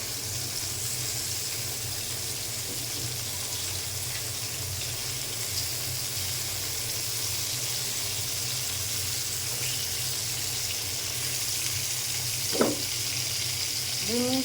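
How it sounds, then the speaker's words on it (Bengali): Fish frying in oil in a pan, a steady dense hiss of sizzling that runs unbroken throughout, with a brief higher squeak near the end. "মাছ ভাজা হয়ে গেছে,"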